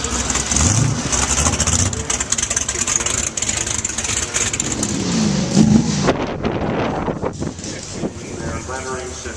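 A 1900 Locomobile car runs loudly up close at an outdoor transportation museum event, a steady chugging engine mixed with wind buffeting the microphone and a voice talking over it.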